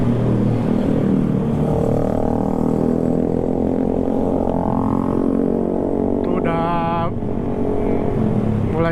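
Steady roadside traffic of cars and motorcycles streaming past on a winding, climbing road, a continuous loud engine drone with one higher-pitched motor whining by near the end, and a voice talking over it.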